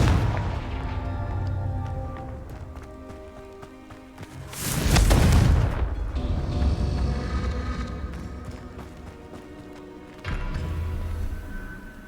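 Confringo fire spell blast in Hogwarts Legacy, a loud burst that flares up and rumbles away, set against ongoing game ambience and music, with a second softer impact near the end.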